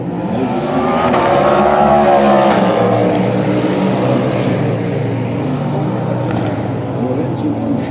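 An LMP2 race car at the 24 Hours of Le Mans during free practice, its engine droning loud and steady with harmonic sweeps as it passes, mixed with trackside commentary.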